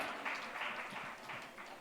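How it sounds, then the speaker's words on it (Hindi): An audience applauds to welcome a speaker onto the stage at an astrology event, Jyotish Mahakumbh 2025: sustained crowd clapping, fairly even and moderately loud, with no talking. "ये तालियां अगर हम सभी के कानों में और जोर से पड़े"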